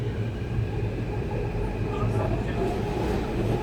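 Riding aboard a Hyderabad metro train: a steady low rumble of the carriage in motion with faint hum and rattle, continuous and even throughout, with no clear talking.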